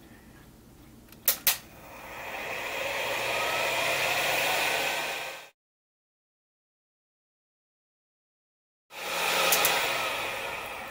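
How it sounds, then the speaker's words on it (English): A heat gun set to 160 degrees Fahrenheit blows a steady, moderately loud rush of hot air over a model ship, cutting out to silence midway before starting up again, with a couple of brief clicks early on. "I'm going to bring the heat gun in at"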